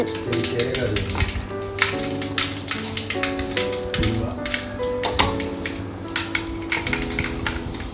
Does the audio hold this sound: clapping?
no